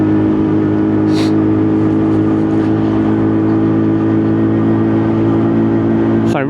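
A Colt car at full throttle, engine roaring loud and steady from inside the cabin throughout, with a brief gear-change sound near the end.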